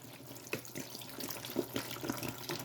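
Water is poured from close range into a pot of chili with pre-seasoned diced tomatoes, a short run of splashing and gurgling lasting a couple of seconds.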